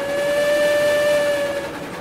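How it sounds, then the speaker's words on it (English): A steam locomotive's whistle sounds in the Railroads Online video game. It is one loud, steady, shrill blast of about a second and a half that cuts off cleanly over a low rumbling background, with no voices. "you're driving your train and you can blow your whistle"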